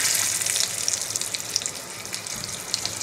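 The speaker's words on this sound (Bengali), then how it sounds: "টুকরো করে রেখেছি আলুগুলো ভেজে নেবো।" Potato pieces frying in hot oil seasoned with black cumin (kalo jeere) in a home kitchen, a steady dense sizzle with fine crackles throughout, close and moderately loud, no voices.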